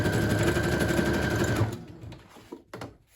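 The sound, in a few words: sewing machine back stitching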